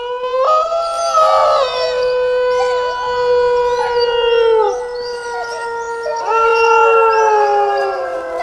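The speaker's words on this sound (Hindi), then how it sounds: "भौंकते हुए कुत्ते और भेड़ियों की आवाज़।" Several long, wavering howls rise and fall together, loud and close, with a brief yip or bark near the start and no talking.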